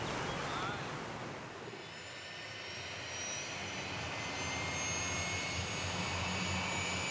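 Jet aircraft engines at Roissy airport in France produce a broad, steady roar, constant and fairly loud for several seconds with no clear voices.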